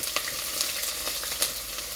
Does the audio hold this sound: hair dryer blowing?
no